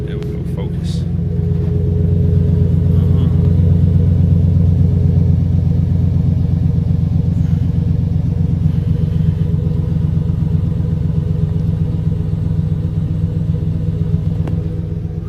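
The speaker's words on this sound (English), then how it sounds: "what I really want y'all to hear, is these Flowmasters right here." A Nissan Titan pickup's Flowmaster exhaust rumbles deeply and steadily at idle, a loud low throb close by that holds throughout.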